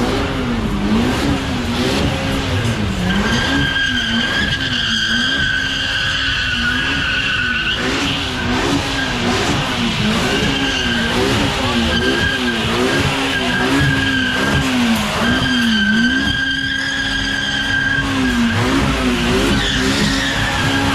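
A Ford with a V6 badge spins and skids at a street takeover car meet, its engine revving hard under a continuous loud tire squeal that wavers up and down, close by and sustained.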